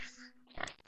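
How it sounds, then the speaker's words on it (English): A short pig oink in a farm setting, two quick grunting sounds, fairly faint and close, with nothing else around them. "It's a pig."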